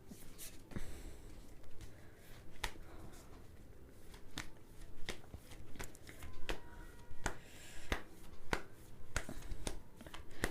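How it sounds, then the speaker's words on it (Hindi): Tarot cards being shuffled by hand, giving a steady run of soft riffling and sharp card slaps at close range, repeating throughout with no talk. "शफल करे जाओ, शफल करे जाओ"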